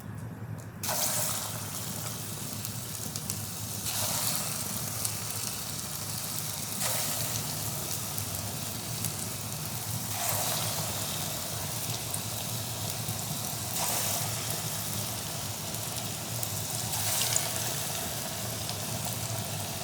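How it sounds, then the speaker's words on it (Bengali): Rasbora, lentil-dough fritters made from biuli dal, sizzle steadily in hot oil, a continuous hiss with periodic surges every few seconds as more batter goes in, close and fairly loud throughout. "একবার যেগুলো দিয়েছিলাম এবার ভাজা হয়ে গেল এরপরে আমি বাদ বাকিটাও এর মধ্যে দিয়ে দিই"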